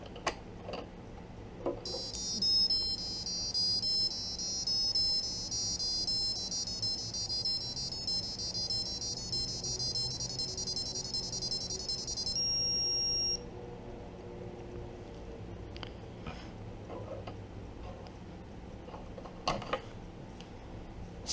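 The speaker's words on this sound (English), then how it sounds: "I still want to demonstrate what the alarm would have sounded like" A homemade electronic alarm sounds from a small speaker, giving a faint, rapid, high-pitched warbling beep pattern that runs for about ten seconds and then stops, over quiet room noise and scattered handling clicks.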